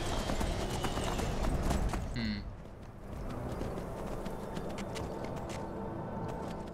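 Hoofbeats of the horse Shadowmere galloping in Skyrim, a steady clip-clop rhythm running through the whole stretch with a brief whinny-like sound partway, over continuous game background noise.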